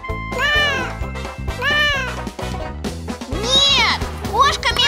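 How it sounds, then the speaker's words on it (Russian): A cartoon cat meows several times in sliding, sing-song cries separated by short pauses, loud and close, with a child-like cartoon voice talking between them. "Кошка мяукает!"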